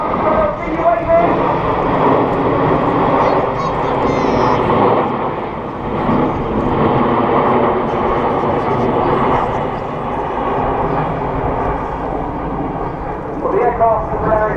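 Red Arrows Hawk jets flying past at an airshow: a loud, steady roar of jet engines that fills the whole stretch, with a commentator talking over it.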